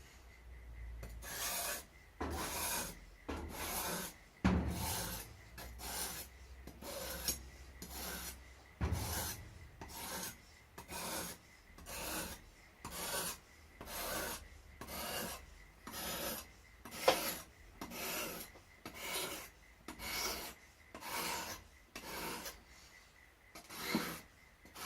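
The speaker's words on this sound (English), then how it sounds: "I think my one's 180 grit, so I'll start out by that and I'll put my own bevel on it like so." A knife blade being sanded with 180 grit to form a new bevel, giving a steady series of rhythmic rasping strokes, about one per second, close and fairly quiet with no talk.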